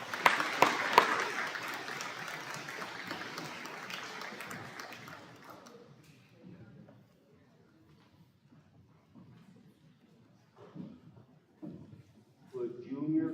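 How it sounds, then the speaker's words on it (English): Applause in a hall at a high school awards evening, a burst of clapping that swells then fades out over about six seconds, leaving a quiet room with scattered movement and some murmuring voices near the end. "Round of applause for him."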